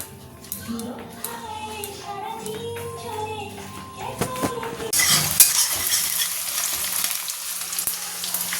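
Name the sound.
onions frying in a pan for paneer tadka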